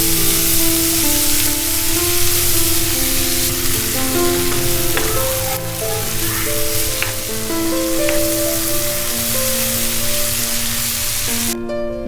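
Sliced onion, spring onion, carrots, beans, capsicum and tomato pieces stir-fry in a hot pan, a loud steady sizzle with occasional clicks of a spoon against the metal.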